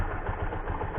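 A Bajaj Pulsar LS135 motorcycle, just repaired for an ignition fault, idles right after starting, giving a brief, steady, close-up engine putter with no talk.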